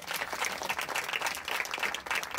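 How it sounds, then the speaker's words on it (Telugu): A church audience claps loudly in response to the preacher's call, a crisp, rapid patter of many hands with slight surges, close and full for a couple of seconds. "గట్టి చప్పట్లు కొడదామా?"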